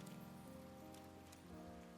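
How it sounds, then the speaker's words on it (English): Steady rain falls in the video game Atelier Ryza, a soft, even patter over quiet background music with tonal layers and no voices. "It is still raining? That is crazy."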